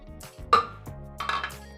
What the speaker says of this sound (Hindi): सबसे पहले हम डालेंगे कॉफ़ी ब्लेंडर जग में